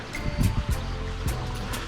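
The Jaworznik stream flows past close by as a steady rushing wash of water, with a few soft splashing surges and no talking.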